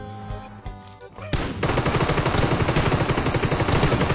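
Rapid automatic gunfire from PUBG Mobile on the Livik map, dense and continuous after a brief lull, loud sustained bursts filling the second half.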